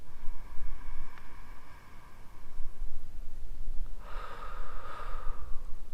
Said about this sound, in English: let's begin by taking a few long, slow, deep breaths at your own pace